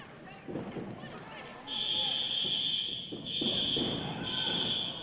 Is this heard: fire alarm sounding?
yes